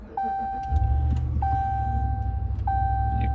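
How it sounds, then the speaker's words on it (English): Inside a 2013-2018 Ram 1500, three chimes ring at a steady pace while the engine cranks and catches, settling into a low, steady idle rumble close by. "You know what, I'm going to start the car,"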